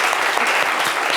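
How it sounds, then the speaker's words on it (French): An audience on a live show applauds for a participant, a brief, dense wash of clapping that stays steady for a moment. "applaudissez pour Valérie"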